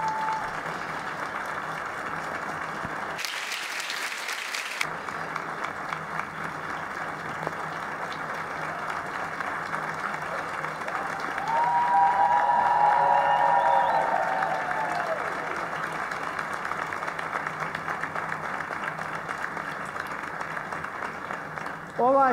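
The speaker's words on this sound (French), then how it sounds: "c'est pourquoi un applaudissement des prêtres et de la chorale pour vous tous" Sustained applause from priests and a choir at a catechesis session of the Mladifest youth festival, steady clapping that runs across most of the span with a brief louder swell midway and a short break early on.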